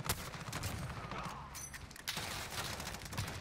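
A sniper rifle going off in a Call of Duty Modern Warfare 10v10 mosh pit match: a faint, busy stretch of distant gunfire and mechanical clatter, one sharper report near the end.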